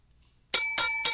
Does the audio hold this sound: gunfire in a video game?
no